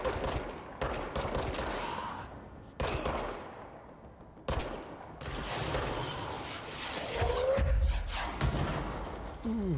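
Gunfire rings out during a fight in the video game Control, with several sharp, loud shot bursts and heavy impacts spaced apart, followed by rumbling, clattering combat noise.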